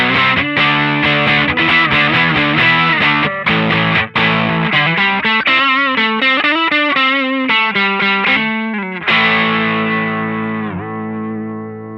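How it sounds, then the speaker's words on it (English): Electric guitar through a DIY Madbean Runt distortion pedal with the gain at 9 o'clock, playing mildly overdriven chords and single-note lines that ring out and fade at the end, with no talking. "Now, to actually get some distortion out of the pedal,"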